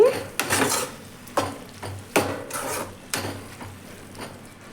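A spoon stirs broad bean gravy curry in a pan, making about six close, regular scraping strokes against the metal, with no talking.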